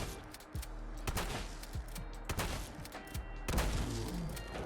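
An M2BM shotgun fitted with an advanced receiver fires at a Deathclaw in the Fallout 4 video game, with several sharp booming shots spaced through the clip over a constant rumble.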